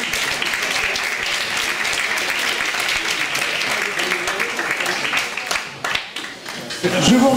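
Loud, continuous audience applause at a student speaking competition, dense clapping that thins briefly before a voice begins talking over it near the end.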